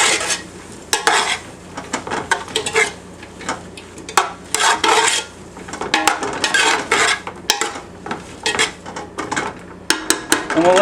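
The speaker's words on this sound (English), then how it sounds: "And now we'll give that a good stir." A utensil stirs thinly sliced leek and minced shallots in a pan, giving close, repeated scraping and clattering strokes in irregular bursts over a soft sizzle.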